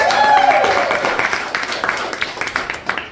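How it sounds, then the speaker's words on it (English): Comedy club audience at Camp Cataract breaks into applause, a dense wash of clapping mixed with a few voices and laughter, loud and close, tapering off toward the end. "Gratuitous applause"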